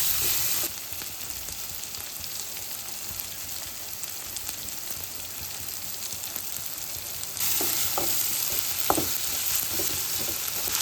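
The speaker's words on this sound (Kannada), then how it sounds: "ಮೆಣಸಿನ್ಕಾಯಿ ಅದು ಹಾಕಿ ಫ್ರೈ ಮಾಡಬೇಕು." Green chillies and onions fry in hot oil, a steady close sizzle that rises sharply for the last few seconds, with a few light clicks of stirring; no talk.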